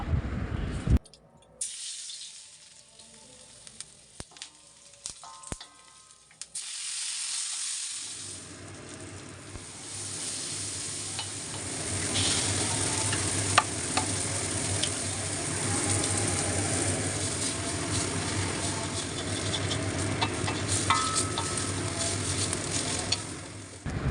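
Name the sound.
stirring and frying Maggi noodles with spices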